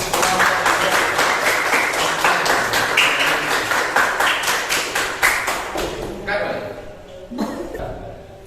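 A seventh-grade class claps together after a group discussion in an Islamic studies lesson, a loud, close rhythmic burst of unified clapping that thins out near the end, with voices mixed in.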